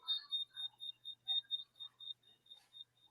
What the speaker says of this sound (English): I'm getting a beep somewhere on the line.